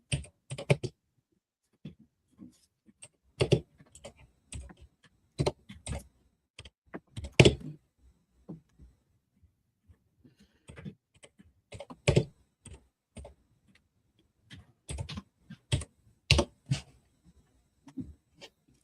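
Fingers type on a tactile computer keyboard in scattered bursts of sharp, close clicks and clacks separated by short quiet pauses.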